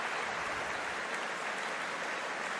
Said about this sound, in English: A warm round of applause from this big Coventry Stadium crowd here.